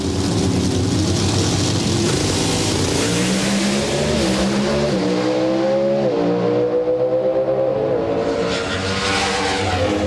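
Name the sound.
Pro Stock drag racing cars launching and accelerating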